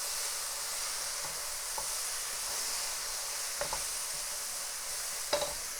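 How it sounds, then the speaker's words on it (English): Curry aubergine frying in a pan with little oil, a steady close hiss of sizzling under a few soft scraping taps as it is stirred. "So now I'm just gonna give it a stir"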